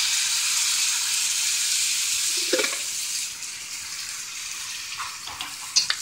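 Tomato sauce hits cooked onions in a hot pan and sizzles, a bright steady hiss that fades slightly midway, with a few soft clinks and stirring noises near the end.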